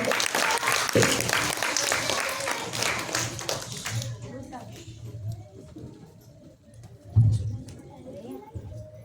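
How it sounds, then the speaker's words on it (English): An audience at a fancy dress competition breaks into a dense burst of applause that cuts off after a few seconds, leaving a quieter room with low voices and a soft thump. "Please give a warm round of applause to Sumita."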